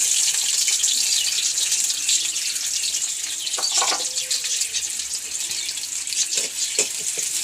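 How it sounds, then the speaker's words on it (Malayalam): Sliced onions frying in hot oil in a pan for Kerala egg curry, a steady hissing sizzle that runs throughout at moderate level, with a few light clatters partway through. "അപ്പോൾ എണ്ണ കാഞ്ഞു. ഉള്ളി ഇടുന്നു."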